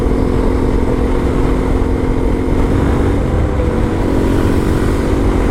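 Suzuki DRZ400E motorcycle cruising on a motorway, its engine droning steadily and loudly with constant wind rush throughout, no pauses or gear changes, close to the rider and with no voices.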